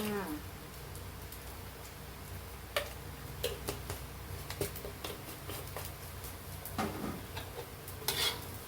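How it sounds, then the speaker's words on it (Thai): Bamboo shoots and egg being stir-fried in a pan give a steady low sizzle, with scattered clicks and scrapes of a spatula stirring throughout. "แล้วก็ผัดเข้ากัน รอจนมันแห้งดีๆหอมๆค่ะ"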